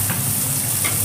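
Thinly sliced onion sizzles and fries in hot oil with a steady, dense crackle, and a couple of brief stirring scrapes sound close by.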